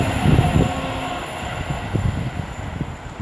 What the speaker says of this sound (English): 39128 working 1 Hotel 16 from London Euston to Manchester to Piccadilly